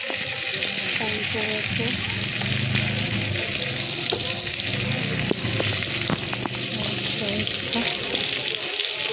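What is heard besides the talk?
food frying in a pan, pangas fish being cooked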